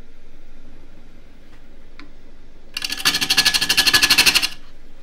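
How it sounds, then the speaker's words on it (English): A wood lathe roughing down an eccentric, wobbly claret ash vase blank with a half-inch spindle gouge: a couple of faint ticks, then a loud, fast, rhythmic chattering cut for about two seconds over a steady motor hum. "I will be roughing down with a 1/2 inch spindle gouge."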